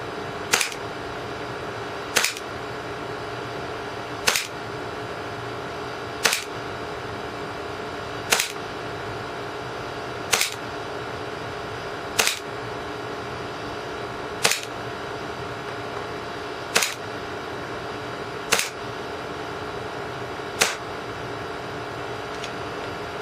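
Army Armament Kimber 1911 Desert Warrior airsoft pistol firing P-Force 0.02 gram BBs indoors during a chronograph test, about eleven sharp, evenly spaced shots roughly two seconds apart over a steady background hiss, with no talking.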